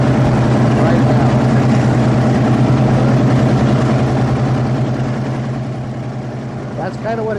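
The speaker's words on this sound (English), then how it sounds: "That's kind of what it sounds like when it's idling out there." Allison aircraft engines idle aboard a yacht on Lake Tahoe, giving a loud, steady low-pitched rumbling drone that holds throughout and eases slightly toward the end.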